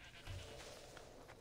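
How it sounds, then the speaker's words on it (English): A goat bleats in Assassin's Creed Odyssey, a short faint call heard at night among quiet ambient game sound. "That's just a goat."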